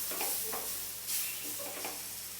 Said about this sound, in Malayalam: ഇനി ഇതിലേക്ക് കുറച്ച് പാൽ ഒഴിച്ച് കൊടുത്ത് പാകത്തിനുള്ള കൺസിസ്റ്റൻസി ആക്കിയെടുക്കാം.